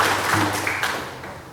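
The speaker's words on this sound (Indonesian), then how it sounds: "saya minta kita tepuk tangan untuk Pace dia dulu" An audience at a district meeting in Kokas, Fakfak applauds. The clapping is a loud, dense wash of many hands that fades slightly over the short stretch.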